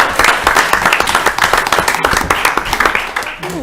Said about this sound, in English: We'll go with hand clap for this one